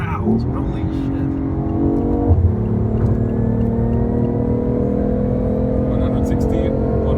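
BMW i8 hybrid sports car at full throttle on the German Autobahn, its engine growling loudly and steadily from inside the cabin with a rising drone, a brief shift bump near the middle, and people talking over it.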